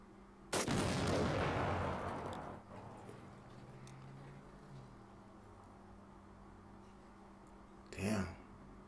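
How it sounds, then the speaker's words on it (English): A big explosion with flying shrapnel: one sudden, loud blast that rumbles away over about two seconds, then quiet, and a shorter second bang near the end. "Let's get a nice big explosion,"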